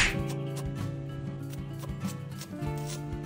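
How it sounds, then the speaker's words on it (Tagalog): Knife slicing tomato in a kitchen: a quick series of soft cutting taps and rubbing strokes, close and fairly faint, without talk. "Hiwain ng kamatis."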